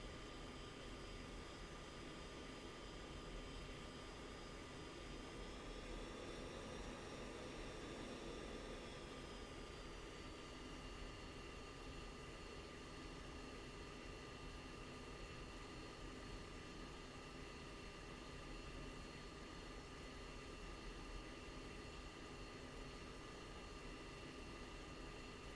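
A jet aircraft in the Falcon BMS flight simulator spools up for takeoff, with a faint, continuous engine roar and whine that rises slightly in pitch partway through, heard alone without talk.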